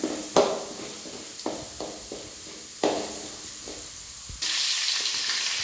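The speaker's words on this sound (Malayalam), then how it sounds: "ഇതിൻ്റെ ഫ്ലേവർ നന്നായിട്ട് ആ സവാളയ്ക്കൊക്കെ നന്നായിട്ട് പിടിക്കാൻ വേണ്ടിയാണ് നന്നായിട്ട് വഴറ്റണം" Sliced onions sauté in oil with ginger-garlic paste in a pan for Kerala chicken roast, giving a steady sizzle broken by stirring scrapes, then a louder burst of frying hiss near the end.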